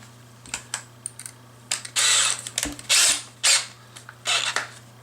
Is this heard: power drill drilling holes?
yes